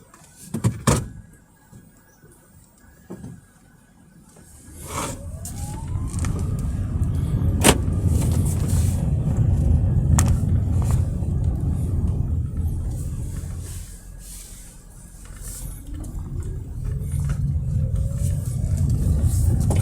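A 2021 Honda Grace Hybrid EX heard from inside the cabin: a few clicks and knocks, then a steady engine and road rumble builds as the car pulls away and accelerates, eases briefly, and swells again.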